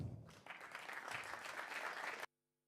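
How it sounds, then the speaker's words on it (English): A conference audience at a tech event's studio stage applauding to welcome a speaker, a steady wash of many hands clapping that swells quickly and then cuts off abruptly into near silence. "give a big round of applause for Timo Nussbaum"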